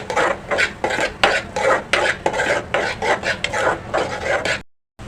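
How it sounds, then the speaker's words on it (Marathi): Ground Malvani spice paste with red chilli powder and turmeric sautéed in a pan, heard as close, steady rhythmic scraping and rasping strokes of a spoon, loud and continuous, ending abruptly in silence. "आता मसाल्यांमध्ये वाटप चांगलं परतून घ्यायचं"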